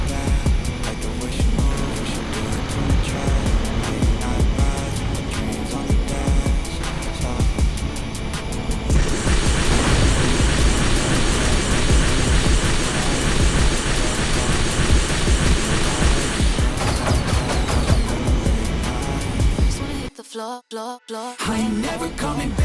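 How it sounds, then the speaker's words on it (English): Airplane combat in the video game Nexus Drop, a continuous dense roar of engines and gunfire that runs loud throughout and cuts to brief near-silent gaps near the end. "And now a little bit of airplane combat."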